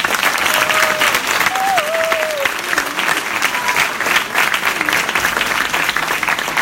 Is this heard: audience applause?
yes